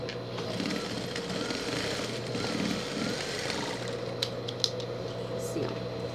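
A sewing machine stitching fabric for a pet carrier, a steady fast mechanical whir running continuously at close range, with a few small clicks near the end.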